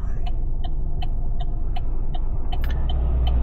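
A car driving on a road, with steady low engine and road rumble throughout and a series of faint, regular ticking or chirping sounds above it.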